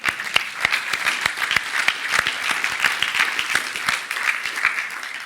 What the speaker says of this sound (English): Just give a round of applause to Kotlin.